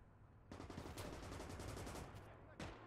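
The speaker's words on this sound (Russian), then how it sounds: "Опаньки, это кто стреляет?" Rapid bursts of gunfire crackle in the WWII video game Gates of Hell: Ostfront, a sustained automatic volley followed by a lone later shot, fairly faint and distant-sounding.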